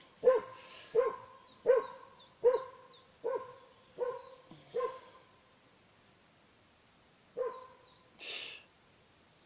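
Guard dog barking at a moderate distance: a steady run of six evenly spaced barks, a pause, then two more, set in a quiet outdoor forest setting.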